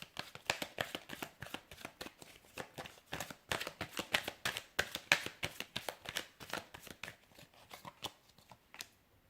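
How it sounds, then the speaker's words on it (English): Tarot cards are shuffled close up in a rapid, steady series of crisp riffling flicks and slaps that continue for several seconds on a tabletop and fade slightly toward the end. "So I'm going to give the cards a shuffle"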